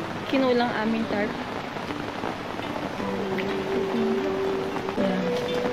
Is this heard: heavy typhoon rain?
yes